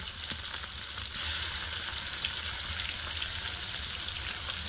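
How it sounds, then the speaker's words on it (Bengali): Ground spice paste fries with tomato in oil, a dense, even crackling sizzle that holds steady and close, with a faint scrape near the start. "মশলাটা 2 মিনিট কষিয়ে নেবে।"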